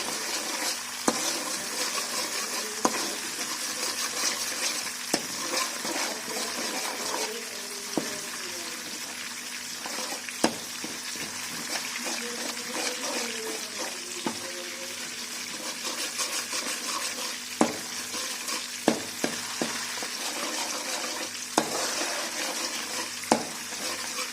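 Butter simmering in a pan as it turns into homemade ghee, a constant bubbling sizzle with a spoon scraping and stirring now and then, sharp clinks from the utensil striking the pan at intervals.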